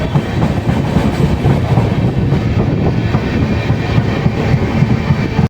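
An LHB-coach Sabari Express train rolls through Kottayam station, a loud, continuous rumble with a clickety-clack of wheels on rails, heard up close and unbroken throughout.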